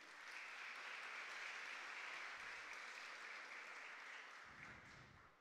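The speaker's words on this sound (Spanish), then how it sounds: "Fuerte el aplauso." Sustained audience applause at a regional oratory competition final in Herrera province, steady and dense for several seconds before tapering off.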